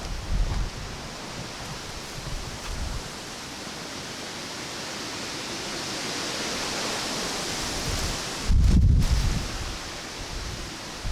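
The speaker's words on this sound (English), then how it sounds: "it is just way too windy out there" Strong wind blasts across an outdoor microphone as a continuous loud roar, with a heavier low gust near the end.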